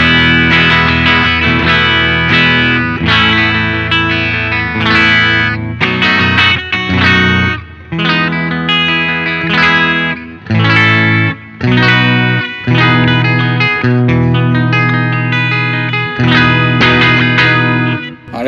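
Loud distorted PRS SE Paul's Guitar (2022) electric guitar on the rear humbucker plays chords and riffs, swirling with chorus shimmer, echoing delay and reverb, strummed in rhythmic bursts with brief pauses.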